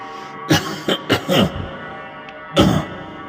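A bus conductor coughs in several short bursts in a row, fairly close, followed by a pause and one more harsh cough near the end.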